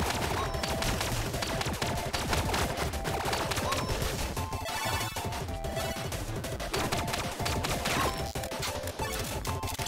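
Rapid, loud gunfire from the top-down shooter Relic Hunter Zero, a relentless stream of sharp shots and impacts filling the whole stretch without pause, with no talking over it.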